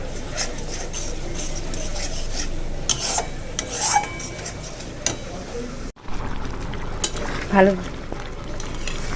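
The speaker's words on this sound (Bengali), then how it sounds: "একটু ধনের গুঁড়ো দিয়ে আর মশলাটা কষিয়ে নিচ্ছি" Tomato paste with Kashmiri chilli powder and coriander powder frying in a pan as a masala, with rough rasping scrapes of a spatula and a clatter of utensils, close and loud, a brief break midway.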